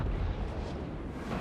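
Cannon fire in the strategy game Total War Warhammer 3, deep rumbling booms blending into a continuous low battle roar, moderately loud with no talk.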